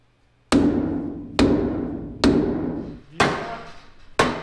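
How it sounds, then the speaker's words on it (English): Five heavy, ringing hammer blows land at a steady pace, each strike sharp and loud with a metallic tail that fades before the next hit. "now get a hammer and hit right there"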